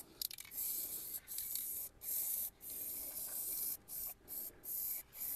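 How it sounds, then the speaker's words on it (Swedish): Spray paint hissing onto Zundapp KS 50 moped parts, close and steady in several bursts separated by short pauses, with no talking. "medan ni tittar på när jag sprayar där så"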